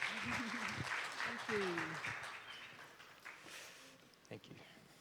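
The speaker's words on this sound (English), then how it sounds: "Can I have an applause for Nicki and James?" Applause for two speakers at a Bitcoin community meetup in Suriname, moderate and steady under a speaking voice, with whistle-like tones and a few sharper claps toward the end.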